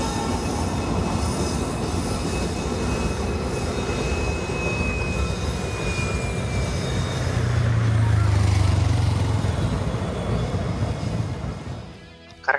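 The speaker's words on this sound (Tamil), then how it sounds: "கரெக்டாக ஒரு ட்ரெயின் ஒன்று பாஸ் ஆச்சுங்க." A train passes close by near Thenmala, Kerala, with a continuous heavy rumble and metallic wheel squeal, swelling louder midway before fading out at the end.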